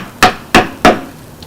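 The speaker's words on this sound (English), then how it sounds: "I start using a hammer and a chisel, because it takes the wood out" Three sharp, close wooden knocks come in an even rhythm as a hammer strikes a chisel, carving wood out of a sculpture, with quiet between blows.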